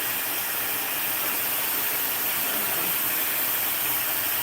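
A hair dryer fitted with a concentrator nozzle blows a loud, steady airy roar, close and unbroken throughout.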